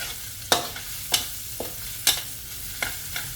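Coriander root, pepper and garlic paste stir-fried in a pan for braised pork belly with bamboo shoots: a low sizzle broken by five or six sharp spatula scrapes and knocks at uneven intervals, close by, without voices.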